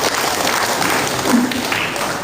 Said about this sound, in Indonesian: Kasih aplaus buat pejuang kita.